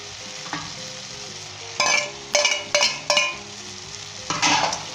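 Scrambled egg masala is stirred in a karahi over a steady sizzle, with a rhythmic series of four sharp scraping strokes in the middle and one more toward the end, close and fairly loud, without speech.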